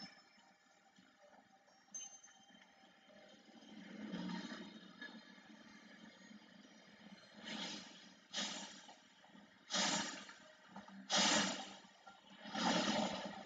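A dog-like creature in the Xenoblade Chronicles video game lets out a series of roars, starting with a low rumble and building into five loud rhythmic bursts toward the end.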